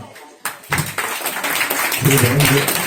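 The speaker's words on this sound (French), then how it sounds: "Vous pouvez vous lever, on peut vous applaudir." Audience applause at a hypnosis evening, rising after a brief quiet into steady, dense clapping from a room full of people, with some voices mixed in.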